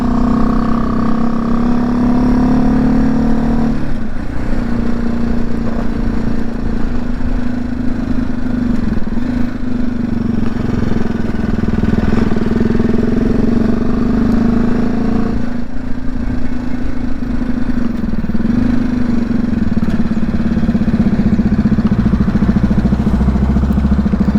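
Motorcycle engine droning steadily through a ride, a continuous loud hum with low rumble and wind buffeting, heard close and unbroken throughout.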